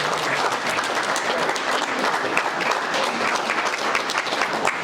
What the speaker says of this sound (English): I want the student athletes to stand up and clap for your moms and dads.